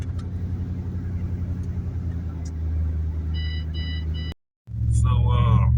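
A Chevrolet Tahoe with ongoing suspension work on a road test drive: a steady low engine and road rumble from inside the cabin, with a voice briefly heard near the end.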